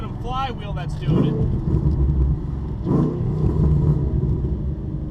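A Ford Mustang with a newly fitted motor revs and drives, giving a loud, close, continuous engine rumble with rising pulls, while a person talks over it throughout.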